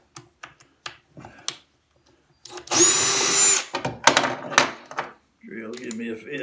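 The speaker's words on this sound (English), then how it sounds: "I'll drill out and make sure that's nice and square" Drilling out a square hole in wood: a single loud whining burst of a little over a second, set among scattered clicks and knocks and short bits of nearby talk.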